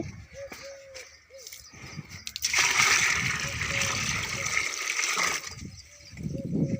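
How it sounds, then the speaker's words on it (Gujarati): Buffaloes drinking water at a livestock farm, with splashing and sloshing that grows loud and steady through the middle, while voices talk near the start and end. "ભેંસું પાણી પીવે છે"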